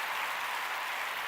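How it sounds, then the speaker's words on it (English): Brief, dense burst of hand clapping, a short spell of steady applause-like patter with no talk. "I gotta do a clap for that one."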